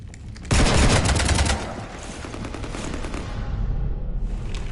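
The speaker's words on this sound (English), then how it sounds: "You want to stop shooting up my ship?" Gunfire raking a ship in a video game: a sudden loud volley of rapid overlapping shots that dominates for about a second, then a sustained rumbling barrage continuing at a lower level.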